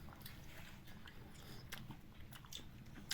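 Close, moist chewing of chestnut honeycomb held in the mouth like gum, soft irregular smacking and squelching with no talk.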